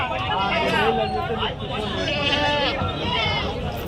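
Goats bleat loudly and continuously in a large herd at the Angallu livestock market, overlapping calls filling the air with chatter from people mixed in.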